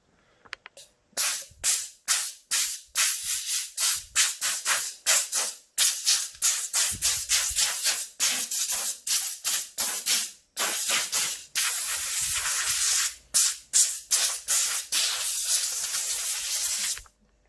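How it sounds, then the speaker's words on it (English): A compressed air gun blows dust off a Zenith 440 watch in rapid, close, loud hissing bursts, many short blasts with brief gaps and one longer sustained blast. "We've got our air gun."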